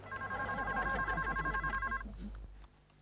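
A telephone bell rings steadily with a bright repeating trill for about two seconds, then stops, leaving a low hum.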